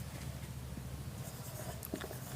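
A pen or marker scratches out numbers by hand for a maths problem, with faint quick strokes and taps over a low steady background hum.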